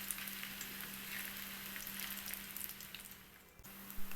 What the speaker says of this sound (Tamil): கடாயில் எண்ணெய் நல்லா சூடான பிறகு ரெடி பண்ணி வச்சுருக்க பொட்டேட்டோ பால்ஸ் எல்லாம் எண்ணெயில் போட்டு ஃப்ரை பண்ணி எடுக்கணும்